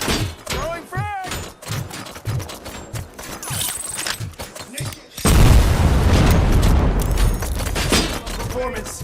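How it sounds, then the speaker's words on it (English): A frag grenade blasts in RoboCop: Rogue City, a loud sudden boom followed by several seconds of dense rumbling debris, after a stretch of rhythmic mechanical clanks and tones. "Commencing phase 2. Throwing frag."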